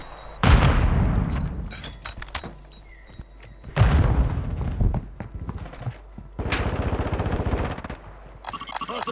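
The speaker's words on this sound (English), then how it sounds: "Throwing Semtex!" Semtex grenade blasts and gunfire in Call of Duty Warzone: three loud, booming bursts with crackling decay, each followed by a quieter stretch, no talking.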